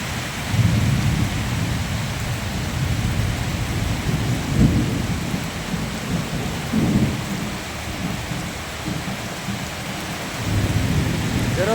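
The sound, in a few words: thunder during heavy rainstorm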